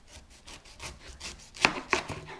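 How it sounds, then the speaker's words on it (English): A kitchen knife cuts the bottom off a pineapple on a cutting board, with soft sawing strokes that build to two sharp chopping knocks on the board near the end. The sound is close, fairly quiet, and there is no talking. "You want to cut the bottom."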